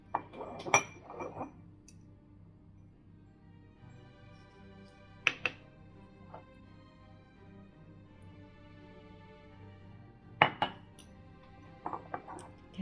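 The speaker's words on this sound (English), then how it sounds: "I'm now going to use my mortar and pestle to make a finer consistency for the salt and the peppercorns." Salt and peppercorns are ground in a mortar and pestle while cooking a 17th-century pigeon dish, producing a few sharp stony clinks and scrapes separated by quiet pauses, heard close up.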